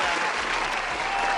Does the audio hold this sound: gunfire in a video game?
no